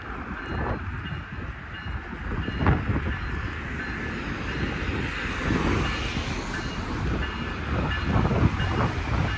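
A low, rumbling train drone with rattling wagon noise as a train leaves a station in Hamilton, Ontario, steady and fairly loud throughout, swelling slightly toward the end.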